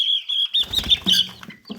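Small birds peep in high, thin chirps, several overlapping in quick bursts, fairly close and moderately loud.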